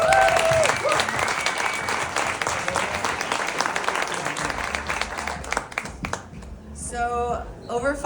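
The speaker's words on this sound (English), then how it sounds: "Let's please bring with a round of applause to Daniel Goldberg." Audience applause welcoming a speaker at a panel on psychedelics and healing: dense sustained clapping for about six seconds, fading out, followed by a brief tonal sound near the end.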